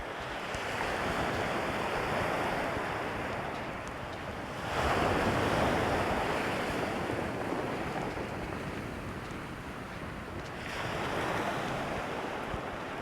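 Surf breaks steadily on Monmouth Beach in Devon, with continuous wave wash swelling louder around the middle and again near the end, while wind buffets the microphone throughout. No voices are heard.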